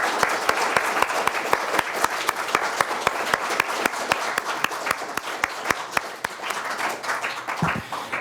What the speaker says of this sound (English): please join me in thanking them with a big round of applause